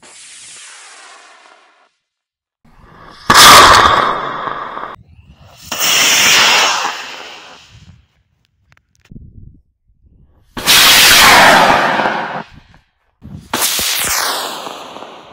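Model rocket launching outdoors, several separate loud whooshing, hissing bursts of rocket motor thrust, each a few seconds long with quiet gaps between, with no talk.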